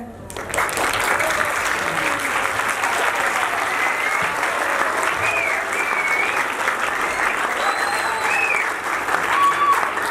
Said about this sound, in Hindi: अपने इदारों, अपने उस्ताज़ इकराम और प्रिंसिपल हजरात के लिए खड़े होकर एक बार तालियाँ बजाएँ